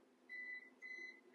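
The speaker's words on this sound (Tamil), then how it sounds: "இப்ப பீப் சவுண்டும் வந்துருச்சு" An oven timer beeps after a batch of brownies finishes baking, three faint high electronic tones, each roughly a quarter second, evenly spaced over a low background hum.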